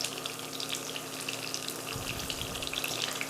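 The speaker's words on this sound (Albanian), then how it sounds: "Kungujt do t'i skuqim derisa të zbuten edhe të marrin një faqe kështu të kuqëreme." Zucchini slices fry in a pan with a soft, steady sizzle and faint crackle, heard close and alone for a few seconds.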